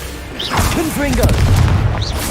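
A Confringo explosion spell going off in a Harry Potter video game: a booming blast with whooshing, crackling debris, heard under the player's shouted voice and sliding game sounds.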